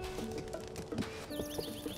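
Horse hooves clip-clop in a steady gallop rhythm with a brief neigh, from the video game The Legend of Zelda: Tears of the Kingdom, heard alone over continuous game music.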